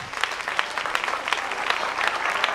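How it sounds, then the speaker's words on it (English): A church congregation giving quick, light fingertip claps, a rapid rustling patter of applause that runs steadily throughout. "That's them fingertip claps."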